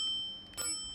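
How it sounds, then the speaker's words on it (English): A bell on a rental e-scooter gives a single bright, ringing ding with a clear, sustained tone, fairly faint and quick, set against quiet background. "every scooter is equipped with a bell"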